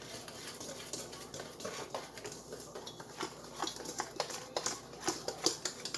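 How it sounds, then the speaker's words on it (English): Whisk stirring salt into dry tortilla flour in a bowl, a soft busy patter of light metal ticks and scrapes, quiet and close. "I'm going to mix it up a little bit with a whisk"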